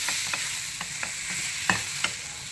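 Sun-dried cucumber curry being stirred in a pan, a steady low frying sizzle with several soft scraping strokes of the spoon, two sharper clinks near the end, no voices.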